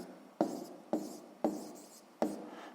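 A pen writes an answer into a math exercise book, four sharp, evenly spaced strokes, each tapping down and then scratching briefly across the paper, close and quiet with no voices.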